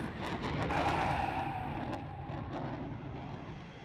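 An F/A-18 Hornet fighter jet touching down on an aircraft carrier deck gives a loud, sustained broadband jet roar as the engine revs up, holding steady then easing slightly toward the end.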